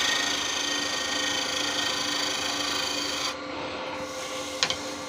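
A woodturning tool truing a wooden box blank on a lathe, a steady rasping scrape over a constant motor hum that drops off partway through, followed by a couple of light taps.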